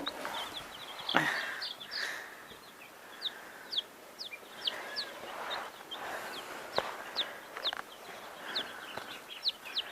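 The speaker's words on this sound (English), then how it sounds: "We got these chicks." Young chicks on a farm give a rapid series of high, thin peeping chirps with a few louder clucks mixed in. The calls are continuous and moderately close over a soft background hiss.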